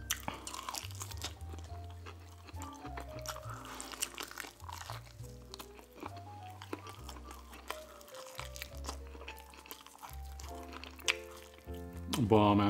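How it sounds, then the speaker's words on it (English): Close, steady chewing and crunching of Pizza Hut stuffed-crust pepperoni pizza and chicken wings at a mukbang meal, soft wet bites and crinkles over continuous low background music. "When I get really full, or starting to get full, I start chewing longer."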